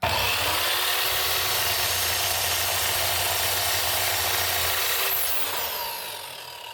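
An Ozito 10-inch electric drop saw cutting through material, a loud steady high-pitched whine with a continuous cutting roar that holds for several seconds, then spins down and fades toward the end, with no talking.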